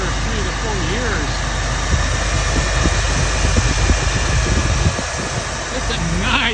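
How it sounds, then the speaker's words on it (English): A 1987 Cadillac Brougham 5.0 V8 idles with a deep, steady rumble, close and loud, while someone talks over it. "Sounds just like a big V8 should sound"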